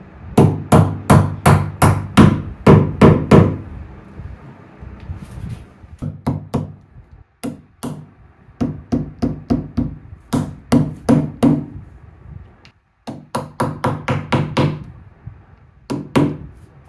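During IKEA Malm desk assembly, a part is tapped into place through a roll plug, giving sharp repeated knocks in quick rhythmic bursts, loud and close, with short pauses between runs of strikes.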